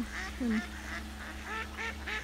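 Several ducks call in repeated nasal quacks and honks at a moderate distance, faint against a low steady hum.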